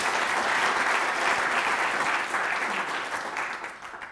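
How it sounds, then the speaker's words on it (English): Audience applause after a talk at a NativeScript developer event, a dense burst of clapping that holds steady and then tapers off toward the end, with no talk over it. "give some applause to Shiva"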